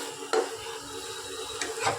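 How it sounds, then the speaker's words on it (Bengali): Spice paste stirred and mixed into Lote fish (Bombay duck) in a cooking pot, with a couple of brief scraping, clinking accents over a soft, steady kitchen background. "এবার আমি ভালো করে মিশিয়ে নেব, যাতে মশলাটা পুরোপুরিভাবে লেগে যায়"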